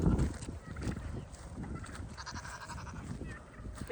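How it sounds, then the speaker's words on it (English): Goats bleat amid general farmyard noise, several brief calls scattered over a rumbling, breezy outdoor background, moderately close but not loud. "Mars, look at our goats."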